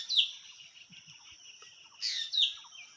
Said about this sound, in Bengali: এর ভিতরে পাখি বসবাস করে